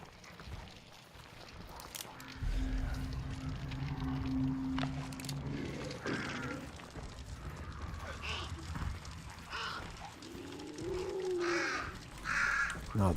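Crows caw in a video game's zombie-infested area, a few harsh calls rising over a murky ambient bed with scattered clopping footsteps and shifting noises, while a voice talks intermittently underneath.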